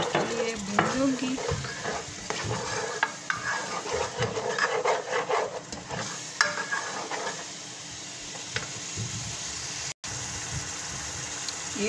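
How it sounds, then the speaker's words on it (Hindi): Spices with turmeric and garam masala frying for chicken biryani, stirred in a pan with repeated scraping strokes over a low sizzle, close and uneven, with one brief dropout near the end. "ये सारे शामिल करूंगी, 2 से 3 मिनट के लिए भूनूंगी।"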